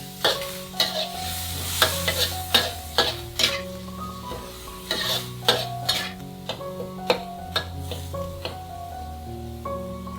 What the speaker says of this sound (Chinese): 急火快炒。